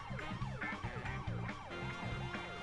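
Police car sirens wail in The Simpsons: Hit & Run video game, several overlapping rising-and-falling tones cycling continuously over a low engine rumble, loud and close with no talk.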